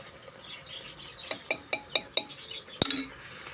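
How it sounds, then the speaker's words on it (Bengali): Ginger and garlic tipped into a pot of beef and onions, heard as a run of sharp clinks and taps of a utensil against cookware, several spaced knocks then a louder clatter, with faint kitchen background and no talk. "সামান্য পেঁয়াজের মধ্যে আমি আদা রসুন দিয়ে দিব।"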